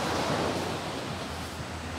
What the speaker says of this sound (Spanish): Aquí va un río, aquí va un río.